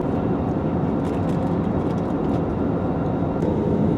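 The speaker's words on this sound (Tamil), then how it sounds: "ஃப்ளைட்டு டிசென்ட் ஆக ஆரம்பிச்சிருச்சு" Cabin noise aboard a Vistara Airlines passenger jet during descent, a steady, loud, broadband roar of engines and airflow with no pauses or voices.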